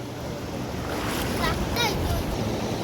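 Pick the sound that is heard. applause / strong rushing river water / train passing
strong rushing river water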